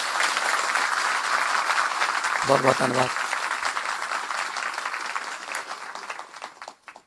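An audience claps to welcome a team at a public gathering, and the applause swells under a speaker's amplified voice, which carries over the crowd noise.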